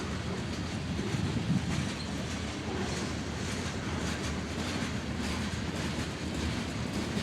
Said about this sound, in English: Quite the train.